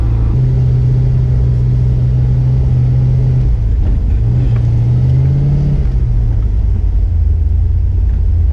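An off-road vehicle grinds through snow in two-wheel drive, its engine rumbling loud and close with a steady drone, then shifting pitch and revving midway before settling back to a heavy idle-like roar.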